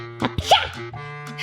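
A short, sharp sneeze bursts out close up, with a quick inhaled build-up before it, amid a steady low hum.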